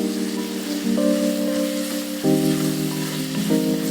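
Small onions sizzle steadily in hot oil in a pan for a crab curry, a continuous close frying hiss with a few stirring bumps and no talk.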